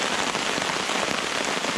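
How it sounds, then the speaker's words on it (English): Heavy rain falls steadily on a wild camp with a DIY hammock setup, a dense close hiss of drops with no pauses and no voices. "If this rain carries on,"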